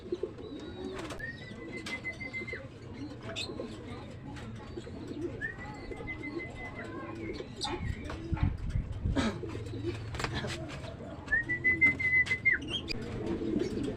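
Racing pigeons coo and flutter around the loft after a 208.68 km race, with a low bird murmur throughout, several short high whistles, and a voice talking faintly in the background.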